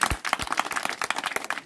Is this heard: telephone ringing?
no